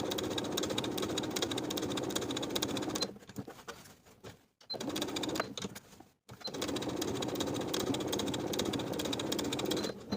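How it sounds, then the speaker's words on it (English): A sewing machine edge stitching along a fabric fold runs in a steady, close, continuous whir, stopping briefly twice as it pivots and then resuming at the same pace. "Now I'm going to edge stitch along the fold, pivoting at the top to sew straight across at the bottom of the V."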